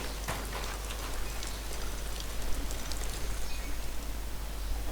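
Steady, close rain pours down in the video game Ghost of Tsushima on PC, a dense, even hiss of drops hitting surfaces with no letup and no voices.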